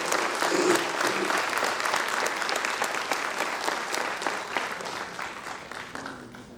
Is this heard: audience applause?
yes